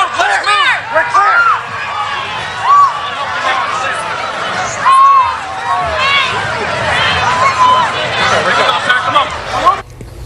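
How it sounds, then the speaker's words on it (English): At a political rally in Butler, Pennsylvania, a crowd screams and shouts in chaos. Dense, overlapping voices rise and fall close by for about ten seconds, with sharp shrieks standing out above the babble. "you hear the screams in the crowd as people are beginning to learn that something is amiss there"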